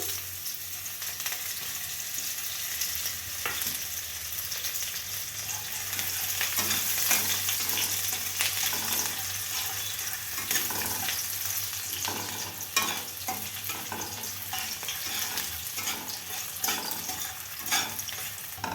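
Onions sizzle steadily in hot oil as a tempering, with intermittent scraping and stirring clatter from a spoon against the pan throughout.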